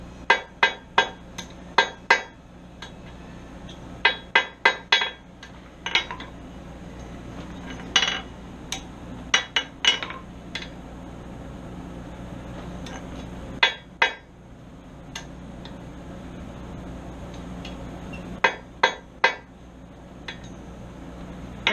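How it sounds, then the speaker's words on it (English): Forged double hooks being hammered on an anvil, sharp ringing metallic strikes in irregular bursts of quick blows separated by pauses, fairly close over a low steady background hum. "I just went over to the other anvil again and hammered them strategically to get them where I wanted them to go."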